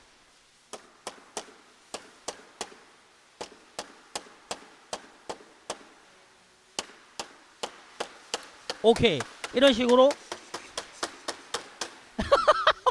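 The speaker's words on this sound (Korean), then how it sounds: "이게 고무망치로 요렇게 시공을 하는 거죠" A rubber mallet taps a windproof cap onto a sash window frame in a window factory, giving a steady run of sharp, evenly spaced knocks with brief bursts of clatter between them and a voice speaking over part of it.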